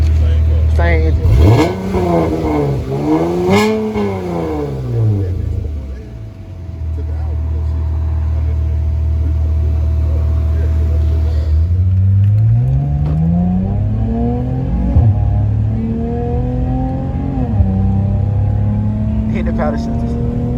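A straight-piped 2018 Dodge Charger and 2019 GT Charger rev nearby, the engine note sweeping up and down in a couple of deep blips, then settling into a loud idle before climbing again, with people talking over it.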